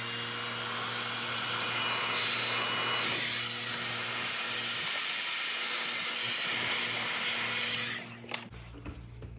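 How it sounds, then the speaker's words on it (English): A heat gun blows a steady, loud whooshing hiss with a constant motor hum beneath, running close for about eight seconds before it cuts off abruptly. "Take your heat gun."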